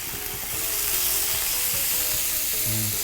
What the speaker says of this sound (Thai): ใส่ลงนิดนึงใส่ลงไปเลยย่างพร้อมกัน3ชิ้น